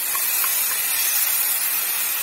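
Ground tomato poured into frying masala for chole, giving a steady, loud, even hiss of sizzling that holds without a break throughout.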